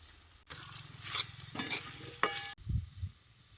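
Potatoes frying and being stirred in a pan for a spiced mixed leafy-greens dish with green peas, a steady close sizzle with scraping stir strokes and a sharp clink near the end, no talking.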